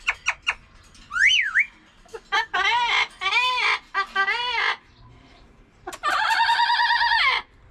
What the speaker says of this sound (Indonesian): Jadi ini burung yang di Arab Saudi termasuk mahal ini.